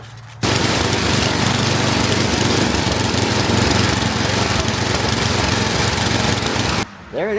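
Snowblower engine, just repaired after leaking gas from its carburetor, catches and runs with a loud steady close roar that holds for several seconds before cutting off abruptly.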